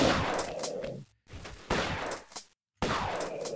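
Shotgun blasts fired at attacking lions in the 1996 Tomb Raider game, three loud booming reports separated by brief silent gaps, each with a rough decaying tail.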